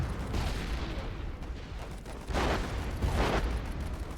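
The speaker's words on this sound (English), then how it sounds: "I shall just do that and call in an anti-tank artillery strike" Anti-tank artillery strike in the WARFARE Legacy strategy game, a steady rumbling barrage with two heavier booming impacts near the end, dense and continuous at moderate loudness.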